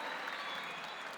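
Audience at a youth peace conference applauding steadily, a dense continuous wash of clapping from a large crowd, moderately loud with no voices standing out.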